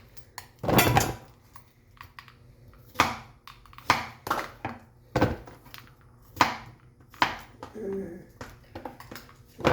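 A knife cuts through chayote on a hard board in separate, well-spaced strokes, each a sharp knock with a short scrape, some louder than others, while quiet talk is heard in between.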